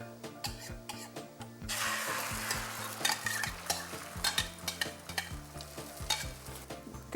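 Eggs cook in a pan over a low flame, with a steady sizzling hiss of frying and a run of repeated scraping, stirring taps from a utensil against the pan, close and moderately loud with no talk.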